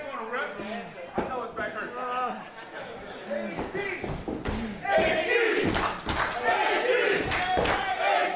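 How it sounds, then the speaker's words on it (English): A lively wrestling crowd roars and shouts at a live match, with loud thuds and slams from the ring punctuating the noise and a commentator's voice over the top. "you can again hear this crowd very lively"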